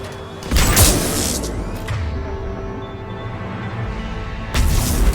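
A grenade goes off in the sci-fi shooter Mass Effect 3, a loud broadband blast near the start followed by a sustained rumbling roar and a second heavy burst at the end, set against game ambience with no talk.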